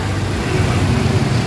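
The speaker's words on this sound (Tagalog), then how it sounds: "So ito yung makina guys, ang ganda ng makina, oh." The engine of a 2017 Toyota Altis runs with a steady, close hum. The car has a throttle delay and low-power fault. The idle is loud and even throughout, with no voices.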